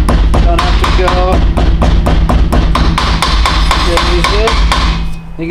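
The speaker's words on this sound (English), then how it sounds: "Now take our new seals. Just tap those in with the hammer." Steady series of sharp metallic hammer taps driving new wheel bearing seals into an anodized hub, evenly spaced and close, about a dozen strikes in quick rhythm.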